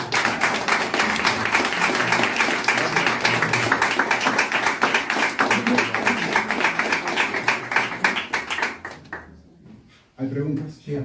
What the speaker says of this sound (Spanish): Me gustaría que le dieran un aplauso a Miguel Silva.